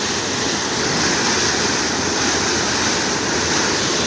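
Water roars steadily through an open gate at Siddheshwar Dam in Maharashtra, a loud, continuous broadband rush heard close up with no voices over it.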